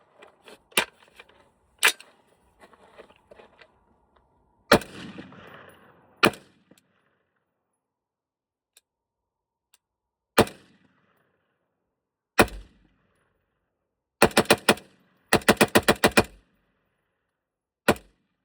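A KS-3 gun fires a full magazine, mostly as sharp, loud single shots spaced a few seconds apart, then a quick rapid string of shots near the end, with faint handling clatter between them.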